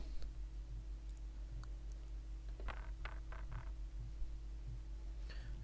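Several computer mouse clicks, a short cluster of crisp taps partway through and one more near the end, faint over steady low electrical hum, no voices.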